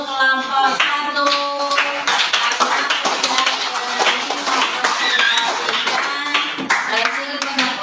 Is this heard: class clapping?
yes